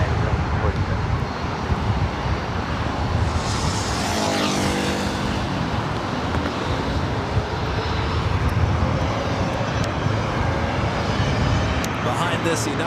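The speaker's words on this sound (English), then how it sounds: "Alaska Airlines flight 1451 heading to Payne, Everett, 737-800" An Alaska Airlines Boeing 737-800 jet at LAX airport gives a loud, steady roar of engine noise that fills the whole stretch. A whining tone sweeps partway through, and a radio voice is audible beneath it.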